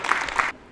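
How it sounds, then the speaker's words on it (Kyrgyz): Audience applause honoring the mothers of young champion footballers at a Kyrgyz gathering, a dense burst of clapping lasting about half a second before cutting off abruptly into quiet. "Ошондуктан апаларына кол чаап коюңуздарчы"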